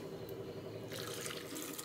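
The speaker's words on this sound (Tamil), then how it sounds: "இது வேகிறதுக்கு தேவையான அளவு தண்ணியும் ஆட் பண்ணிக்கலாம்" Water poured into a pressure cooker holding peas and potatoes, a steady running splash that brightens and strengthens after the first second, close and continuous with no talk.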